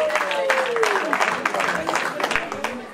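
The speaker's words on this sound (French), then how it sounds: "on applaudit s'il vous plaît" Audience applause at a fashion show walk during a Miss Africa hair-styling pageant in Auxerre, France, a moderate crowd clapping steadily throughout, partly under an announcer's voice.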